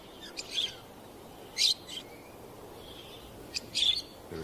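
Parakeets sheltering in the shade of rocks in a dry landscape call in short, sharp chirps, several separate bursts against quiet ambient background.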